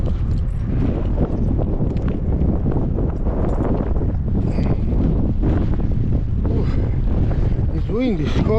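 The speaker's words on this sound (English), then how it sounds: "It's windy, it's cold." Strong cold wind buffets the microphone on a sunny beach coast, a loud continuous rumbling roar with gusty surges throughout and no clear voices.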